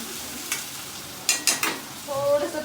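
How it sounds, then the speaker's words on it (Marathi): Onion and garlic sautéing in oil in a pan for Banjara mutton, a soft sizzle broken by a few sharp stirring clatters and scrapes, close and fairly loud. "आता आपल्याला कांदा लसूण छान परतून घ्यायचं आहे।"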